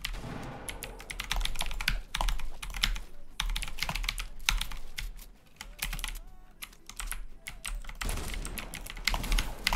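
A computer keyboard is typed on rapidly and close by, a dense clatter of clicks in uneven bursts with brief pauses during a Fortnite gaming session, and no talking.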